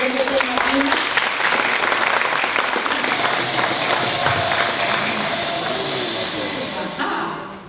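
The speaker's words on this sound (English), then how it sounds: "Let's clap for Diegete Madonna." An audience at a district teacher awards ceremony applauds a primary school teacher winner, a loud, dense burst of clapping from a crowd that holds steady for several seconds, then thins slightly before a final surge.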